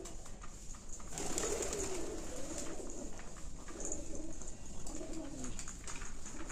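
Pigeons feeding on chickpeas coo softly and steadily at low volume, with a faint airy background hiss and no talking.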